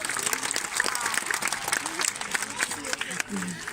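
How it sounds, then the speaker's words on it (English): A zoo audience at a sea lion show claps in a sustained round of applause while a presenter's voice talks over it. "Give them a big round of applause, guys"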